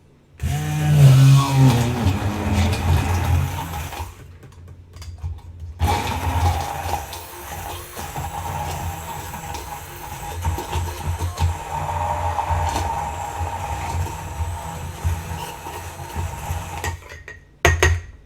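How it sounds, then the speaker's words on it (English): A motorized immersion blender whirs in loud bursts, pureeing a Bloody Mary kombucha mix, stopping briefly twice, with a low hum and rattling of a jar as it runs. "I'm going to take my immersion blender and just give it a spin"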